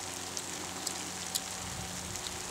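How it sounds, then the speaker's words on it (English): Steady rain falls outdoors on a whitetail hunting trip, a soft continuous hiss with a few faint drop taps, no talking. "It's raining now."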